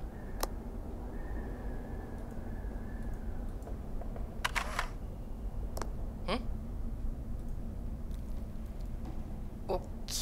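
A few crisp camera shutter clicks from a tablet photo app in the Mystery of Neuschwanstein game, spaced singly over a quiet, steady background hum.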